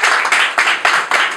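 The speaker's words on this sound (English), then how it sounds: "Give them another round of applause." Audience applause after a speaker's call for another round at a talk, a steady wash of many hands clapping that swells in repeated bursts, loud and close, with no voices over it.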